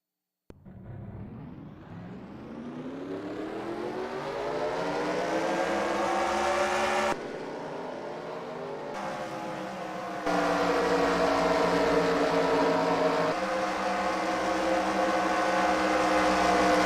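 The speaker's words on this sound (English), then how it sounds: "Drivers, start your engines!" Race car engines revving up together at the start of an eNASCAR Heat video game race, a loud steady roar with rising pitch that holds and swells, with no talking over it.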